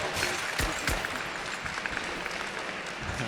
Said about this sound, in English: Round of applause for that, right?